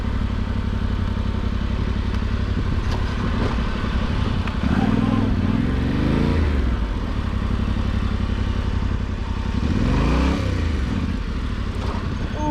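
A Yamaha Tenere 700 motorcycle rides down a sandy desert slope in the Mojave, its engine droning steadily throughout with two rising throttle surges, one in the middle and one near the end, over wind rumble.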